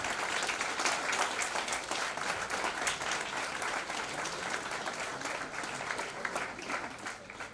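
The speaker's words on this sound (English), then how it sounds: "Applause for the presenters." Applause for paper presenters from an audience at a state-level CA students conference, a dense sustained patter of many hands, fairly distant and soft, holding steady before tapering slightly at the end.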